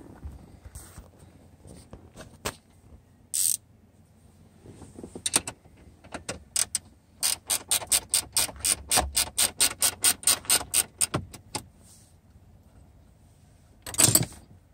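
Ratchet wrench loosening a nut on the steering column tilt lever of a 2006 Jeep Wrangler: scattered clicks, then a fast even run of about fifteen sharp ratcheting clicks, and a final louder clunk as the nut comes free.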